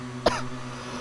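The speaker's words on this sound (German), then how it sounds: "Oh, ich muss husten." A single short cough, near and fairly sharp, over steady background hum from a GTA 5 Online gaming session.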